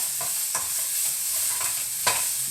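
Green chilies and onion fry in a hot pan, a close steady sizzle broken by a few scraping stirs, no voices.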